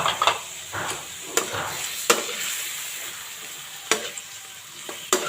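Chicken breast frying in a pan for a Bicolano-style chicken adobo with lemon juice, a steady close sizzle broken by several sharp clacks and scrapes of stirring.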